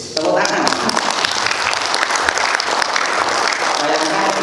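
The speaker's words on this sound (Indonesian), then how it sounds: "Tepuk tangan" Dense, loud applause from a large crowd of about 400 people at a long-service award ceremony, sustained steady clapping close by for several seconds.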